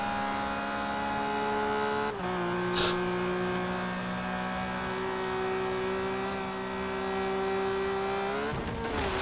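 Car engine in a racing video game drones with a steady held tone, dipping briefly as it shifts and rising again near the end, loud and continuous, with no talk over it.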